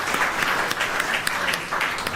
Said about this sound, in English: They deserve a clap for that.